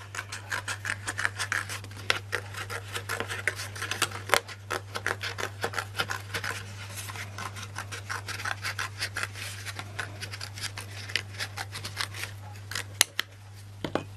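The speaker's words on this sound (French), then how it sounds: "je prends mes ciseaux. Je découpe autour." Scissors snip steadily around an embossing template for embroidery, a dense run of close, crisp blade cuts and paper rustle over a constant low hum, with no talking.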